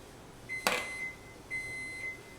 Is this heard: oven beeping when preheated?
yes